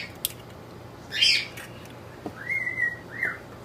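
Pet bird in a home kitchen during baking, giving a few scattered whistled chirps and short tweets with quiet gaps between, moderately close and clear, no speech over it.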